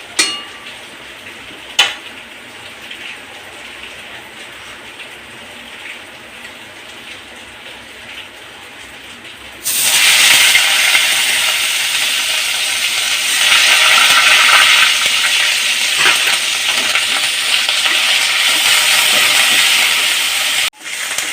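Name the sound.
onions frying in hot oil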